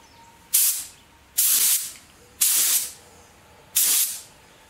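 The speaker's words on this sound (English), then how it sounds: "I've been testing the spray gun. I'm spraying True Oil varnish." A spray gun applies True Oil varnish to a mandolin peg head in four evenly spaced, close, loud hissing bursts, each about a second long and fading out, with quiet pauses between.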